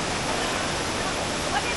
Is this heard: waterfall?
yes